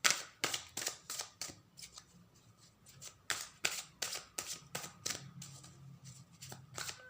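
Tarot cards being shuffled and drawn, a quick run of crisp snapping card flicks and riffles, close and fairly quiet, in irregular bursts with short pauses.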